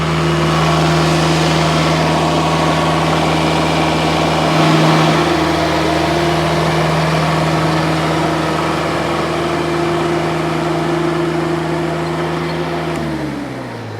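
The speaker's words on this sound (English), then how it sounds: "Give you an idea a little bit about how quick the hydraulics are." Cooks AC36 sawmill running its hydraulics, a loud, steady engine-driven hum and whine with a brief surge in the middle, then winding down at the end; no voices.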